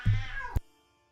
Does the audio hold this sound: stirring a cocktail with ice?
no